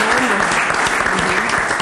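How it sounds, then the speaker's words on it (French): Studio audience at a Congolese music show applauding the guests, dense, loud and continuous clapping with faint voices mixed underneath. "Je crois qu'on peut applaudir pour tous les invités."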